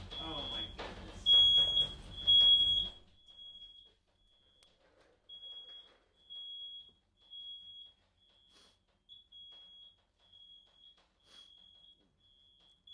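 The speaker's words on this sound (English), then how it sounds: "That's our fire alarm." Fire alarm sounding indoors, a shrill high-pitched electronic beep repeating in short bursts with uneven pauses, loud at first over a raised voice and brief noise, then continuing alone as intermittent chirps.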